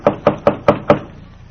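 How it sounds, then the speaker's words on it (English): Five evenly spaced, sharp knocks on a wooden door, close and loud, a radio drama sound effect with a short fading tail afterward. "He knocks at the door."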